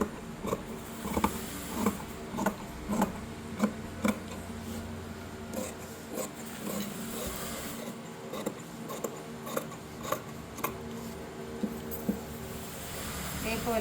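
Scissors cut shirt fabric along a marked line in a steady run of close, crisp snips and rasps, while a person talks over the cutting throughout.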